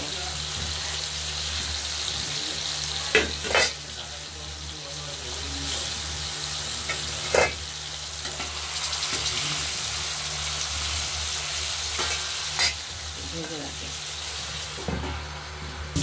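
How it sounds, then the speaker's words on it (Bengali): Fish frying in a pan in a home kitchen, with a soft, continuous sizzle and occasional clinks and knocks from utensils, all fairly quiet. "মাছ ভাজা বসিয়ে দিলাম।"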